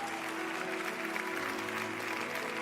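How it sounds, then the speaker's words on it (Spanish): A church congregation applauds during a sermon, a steady wash of clapping from a crowd in a large hall, with a held musical tone underneath. "Vamos a darle un fuerte aplauso al Señor el día de hoy."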